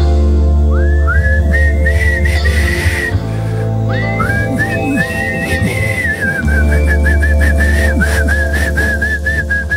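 Whistled melody of the intro to a rock ballad, played from a recording over full music backing, loud and continuous, with long sustained whistled phrases and no talking.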